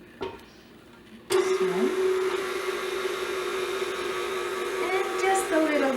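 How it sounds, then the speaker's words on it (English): An electric mixer runs steadily on low speed through chocolate caramel cake batter, a close, continuous whirring drone that starts abruptly after a brief quiet moment. "just continue mixing on low speed"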